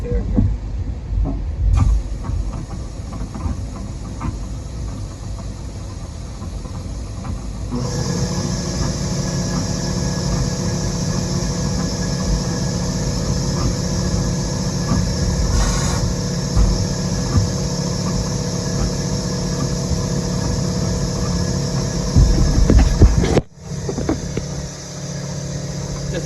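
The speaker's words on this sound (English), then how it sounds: "Blow it out with a little compressed air here" Compressed air blasts through the cooling system of a 1999 Jeep Cherokee XJ as a loud, steady hiss lasting about fifteen seconds, after some rumbling handling noise, then cutting off abruptly.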